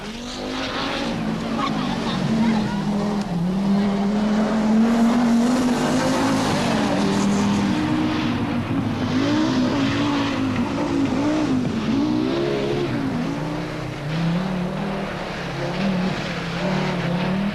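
Audi Quattro and Lancia rally cars race, engines droning and rising in pitch as they accelerate, with occasional tire squeal, all under continuous narration from a voice.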